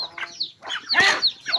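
Backyard chickens cluck and squawk in short, close bursts, several birds overlapping in quick irregular calls.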